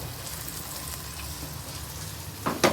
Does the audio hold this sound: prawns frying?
yes